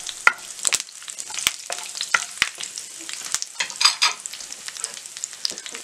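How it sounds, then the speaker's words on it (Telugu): Chana dal, urad dal, mustard seeds, cumin and curry leaves crackle in hot oil as a tempering for egg bhurji, with loud, close sizzling and sharp spatula scrapes and taps at an uneven pace. "కరివేపాకు వేసుకోవాలి. వేసుకొని ఫ్రై చేసుకోవాలి."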